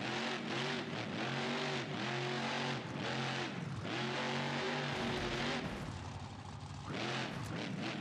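Monster truck engine of Bigfoot in the driving game BeamNG.drive, revving hard with rising and falling harmonic whine, loud and close throughout, easing briefly near the end before a final burst.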